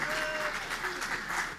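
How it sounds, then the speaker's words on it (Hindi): A large group of college students claps together in a hall, producing a steady, sustained applause throughout with a voice faintly under it. "देखो इनका पूरा गैंग तालियां बजा रहा है।"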